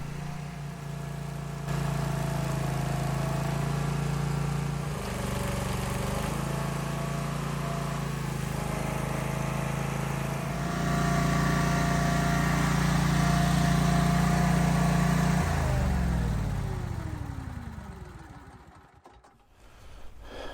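A John Deere 1025R compact tractor's engine runs close by at a steady drone, shifting pitch partway through and winding down near the end, with no talk.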